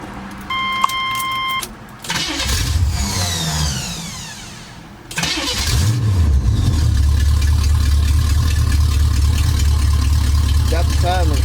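A 1981 Pontiac Trans Am engine runs on open headers with no exhaust fitted, cranking and catching, then settling into a loud, rough, steady rumble up close.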